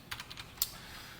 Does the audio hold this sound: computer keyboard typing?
yes